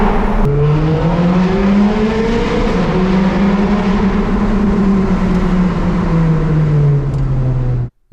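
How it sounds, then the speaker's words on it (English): A 503 hp Ferrari 430 Scuderia in second gear, with an automated manual single-clutch gearbox, accelerates hard on the throttle. Its loud engine note climbs steadily, drops briefly at a shift near the start, then pulls up again and cuts off abruptly. "We're going to roll on the throttle again."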